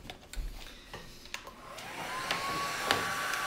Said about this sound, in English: I'm gonna use my heat gun.